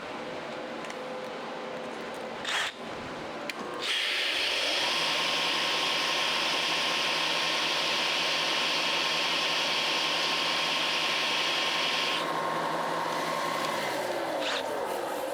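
A tungsten welding electrode with a dirty tip is sharpened on a grinder that whines up to a steady, loud, high-pitched spin and holds it for about ten seconds, with brief scraping contact before it starts and faint handling noises.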